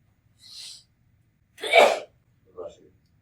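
A single sharp sneeze bursts out, preceded by a soft breathy intake and followed by a brief, quieter sniff or exhale.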